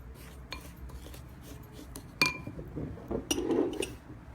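Brown sugar, cinnamon, ground coriander seed and cardamom are stirred together in a bowl, making quiet clinks and light scraping taps of a spoon, sparse and close, with no talking.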